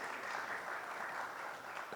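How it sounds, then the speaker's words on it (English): An audience at a panel discussion on free zones applauds a panellist, giving a faint, distant, steady patter of many hands clapping. "A round of applause for our second panellist,"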